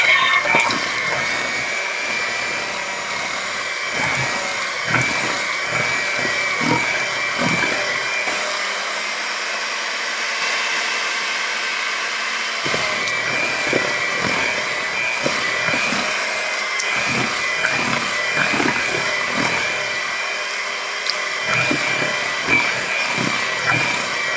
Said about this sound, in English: when I'm using my hand mixer